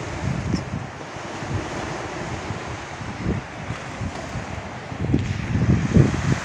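Sea waves wash ashore on a hot day at the seaside near Izmir, with gusting wind buffeting the microphone and surges of surf rising and falling nearby, growing louder toward the end, with no talk.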